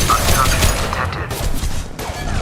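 Gunfire in the video game Mass Effect 2 on Omega, a rapid, loud burst of shots with crashing impacts, then sharper single cracks near the end.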